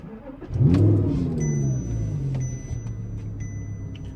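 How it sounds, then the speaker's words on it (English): An Audi R8 engine cranks and catches with a sharp rev flare, then settles into a steady low idle close by. A faint electronic tone from the car's head unit runs above it. "I'm gonna start the car again."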